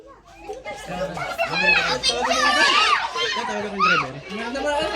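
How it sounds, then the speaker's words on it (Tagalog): A crowd of children plays noisily close by, with overlapping shouts, squeals and chatter that continue without a break. A rescue of a Philippine cobra is under way at the scene. "Sobrang ingay, yung mga bata."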